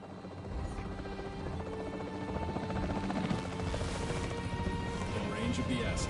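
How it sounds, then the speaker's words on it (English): Capture team helicopter in the video game Jurassic World Evolution, a steady rotor drone that holds throughout beneath crashing impacts and gunfire-like bangs, with talk over the din. "The priority needs to be tranquilizing it with the capture team chopper."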